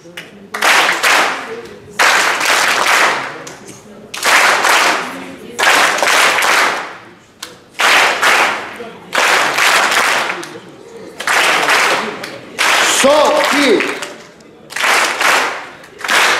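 A crowd at a corporate anniversary rhythm show claps in unison, loud bursts of fast clapping lasting about a second each, broken by short pauses in a steady counted pattern.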